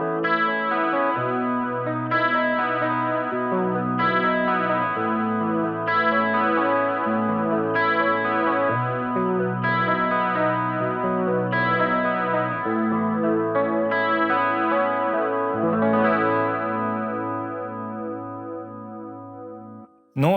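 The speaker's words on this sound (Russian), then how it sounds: "GC Clean, это, я так понимаю, что Jazz Chorus, чистый канал, наверное, должен быть Chorus." Electric guitar played through a Boss Dual Cube LX modelling amp on the JC Clean (Jazz Chorus) setting with chorus, clean shimmering chords in a steady strummed progression, close and alone, ending with a short click.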